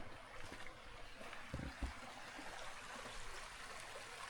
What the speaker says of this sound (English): Here I need to pass a little river.